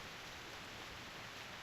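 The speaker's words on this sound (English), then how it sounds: "Enormous sound of rain comes from outside the suitcase." Heavy rain, heard from inside a suitcase, makes a dense, steady hiss with no break over a brief moment.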